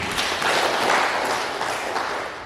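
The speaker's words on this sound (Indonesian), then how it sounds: "Tepuk tangan buat Pak Dedi." Audience members at a village disaster-preparedness and entrepreneurship session clap for Pak Dedi, giving a short, fairly loud burst of applause that tapers slightly toward the end.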